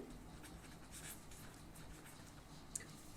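Marker or chalk writing on a board during a physics lesson on a solenoid's magnetic field, a soft continuous scratching with faint strokes, low and steady, with no talk over it.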